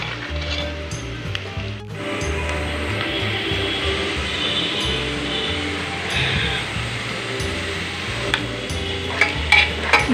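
Ground spices frying and sizzling in a pan for beef curry, with steady stirring scrapes and clinks of a spatula throughout, close and fairly loud with no talk.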